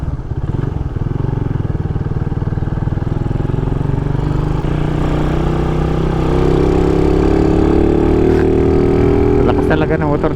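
A motorcycle engine runs steadily and loudly close by for the whole stretch, its pitch rising gradually toward the end as it revs up, on a hiking trip toward Mt. Pattulok.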